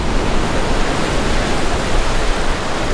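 Ocean surf at Manini'owali Beach in Kua Bay on Hawaii's Big Island roars as a loud, dense, steady wash of noise, close by and without any voices.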